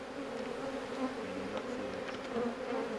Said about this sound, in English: Look at all the bees on her hat.